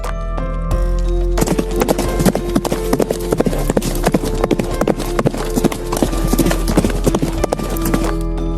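Horse hooves clip-clop in a steady rhythm, loud and close, over a continuous background drone, with no speech.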